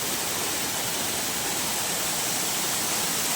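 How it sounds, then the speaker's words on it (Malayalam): A steady, full roar of Manneera waterfall in forest near Konni, Kerala, close and constant throughout with no breaks or voices. "മരത്തിന് നടുവിലുള്ള ഒരു വെള്ളച്ചാട്ടമാണ് മണ്ണീറ വെള്ളച്ചാട്ടം"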